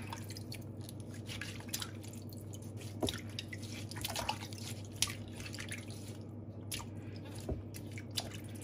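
Warabi bracken fern shoots being rinsed by hand in water, with soft wet squelches and drips at a steady pace over a constant low hum, close by and without talking.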